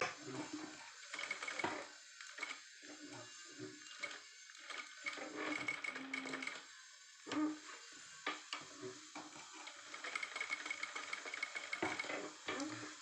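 A sewing machine stitches a cut work blouse in short, quiet bursts of rapid whirring, stopping and starting repeatedly as the fabric is guided slowly.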